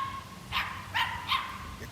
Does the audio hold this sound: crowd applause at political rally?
no